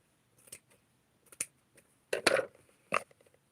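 Scissors snip vintage flower-print fabric for Barbie doll sewing, giving a few separate close, crisp cuts in short bursts with quiet gaps between them.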